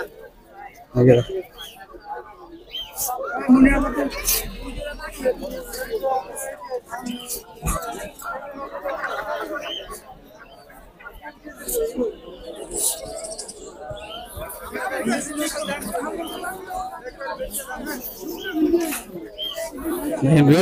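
Birds and pigeons chirp and coo at a crowded bird and pigeon market during a forest department raid, faint calls scattered under constant chatter and nearby talking.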